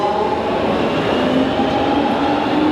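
A London Underground tube train rumbles along at speed, heard from inside the carriage as a loud continuous roar with steady whining tones and no pauses.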